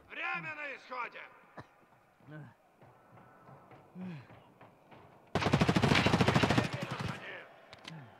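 Rapid automatic gunfire from a gun in a multiplayer arena video game bursts in loudly for about two seconds, after stretches of laughter and talk.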